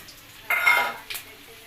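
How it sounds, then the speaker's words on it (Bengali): Fish belly pieces frying in oil, a short burst of sizzling with a brief clatter of utensils, fairly close and moderately loud against quiet kitchen background. "মাছ ভাজি। পেটি ভাজি, মাছের পেটি।"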